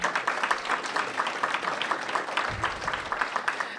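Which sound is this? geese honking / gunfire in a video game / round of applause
round of applause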